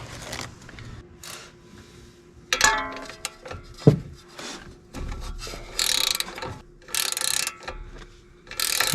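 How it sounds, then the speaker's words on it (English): A pass-through socket ratchet clicks on the tie rod ball joint of a Porsche 996, giving close, bursty ratcheting runs with metallic rattles and clunks between them, and no talking. "What I'm using for this ball joint is this little pass-through socket"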